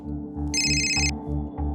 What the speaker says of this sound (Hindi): जरा देख तो किसका फोन है।